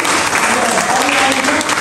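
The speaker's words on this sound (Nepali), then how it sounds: "कृपया तालीले सम्मान गर्न सक्नुहुन्छ" A crowd at a Tamu Gurung community event bursts into loud, continuous applause, thick clapping from many hands filling the space close and strong from start to finish.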